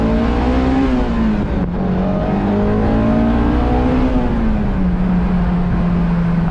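Honda S2000 engine revving steadily and loudly close by on a dusty road, pitch rising and falling slightly across sustained high-revving passes with a smooth whine over the exhaust note.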